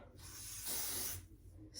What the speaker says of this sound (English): Spray just the hairline on each side.